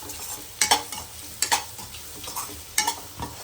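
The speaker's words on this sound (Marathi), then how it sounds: "आणि हे आपल्याला चांगलं हलवून घ्यायचं आहे" Wild vegetable bhaji with chili powder is stirred in a pan, with four or five sharp scraping strokes spaced about a second apart over a soft, steady sizzle.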